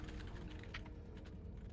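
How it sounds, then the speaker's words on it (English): Typing on a computer keyboard, a steady run of soft, close key taps over a constant low hum, with no talking. "Because I am typing something."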